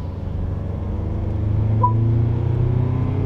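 A vehicle engine hums steadily, its low drone rising slightly in pitch as revs build, close and continuous with no talking.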